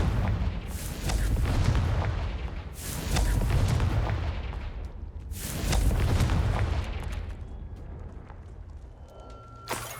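Fire spell explosions in the fantasy game Hogwarts Legacy, three heavy booming blasts spaced a couple of seconds apart, each with a deep rumbling roar that swells and fades, ending in a quieter tail.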